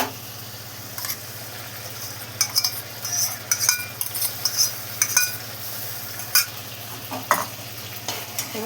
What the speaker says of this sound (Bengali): তারপরে দেব টক দই।